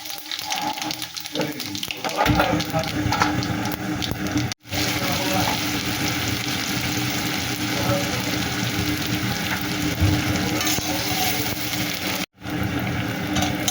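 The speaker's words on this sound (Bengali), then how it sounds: "দেখো বন্ধুরা এই কড়াই তেল দিলাম এই দুটো লঙ্কা দিলাম এই যে পাঁচফোড়ন দিয়ে দিলাম" Two chillies and panch phoron sizzling in hot oil in a kadai, a continuous close crackling fry with brief dropouts, and a quiet voice faintly present at the start.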